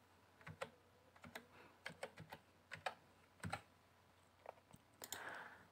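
Computer keyboard typing, close and quiet, with a quick run of distinct keystrokes in short clusters and brief pauses between them.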